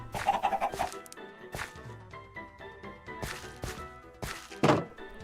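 Minecraft chicken clucks in short, repeated bursts, mixed with dull blocky thunks and a soft background tone, fairly close and clear, with no talking.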